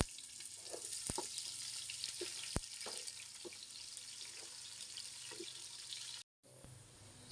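Chopped onions hit hot oil with already-toasted cumin in a pan, setting off a steady, dense sizzle and hiss close by, with a few faint clicks of stirring and no voices.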